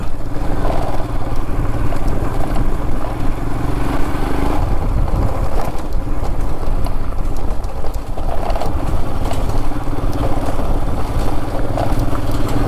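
Loud, steady engine drone of a motorcycle riding a rough monsoon road between Lonavala and Bhimashankar, with wind rumble and bumpy rattles throughout, no talking.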